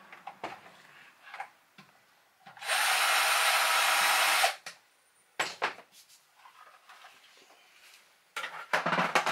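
A power drill whirs for about two seconds, steady and close, backing out a toilet fitting in an RV bathroom, surrounded by scattered clicks, taps and handling knocks.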